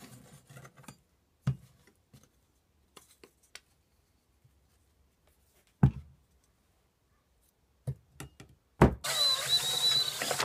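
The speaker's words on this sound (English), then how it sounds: "you can drill through the whole thing all at once" A power drill bores through a knife handle of steel and wood, a loud, whining burst at the very end that follows scattered clicks and knocks of handling in a quiet workshop.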